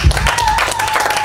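Church congregation applauding, a steady wash of clapping under a voice speaking over it, with a low thump at the start.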